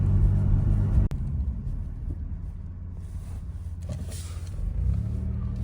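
Chevy Impala pulling away after a speed sensor repair, a steady low engine and road rumble from inside the cabin with a brief click early on and a slight rise in revs near the end.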